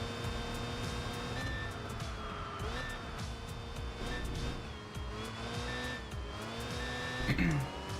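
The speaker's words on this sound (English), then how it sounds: "I like the little alarm as well." In the Enthusia Professional Racing game, a Mazda rotary car sounds a faint little alarm beep at regular intervals over a constant layered engine whine, the game audio overall quiet.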